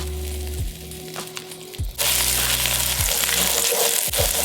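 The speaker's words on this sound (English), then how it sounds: "starting out with a half a stick of some pork chorizo, just to get a little fat and some flavor in the pan" Pork chorizo sizzles in a pan with avocado oil, a low hum at first, then a loud steady hiss of frying fat that fills the pan, with occasional knocks and scraping of a utensil, no talking.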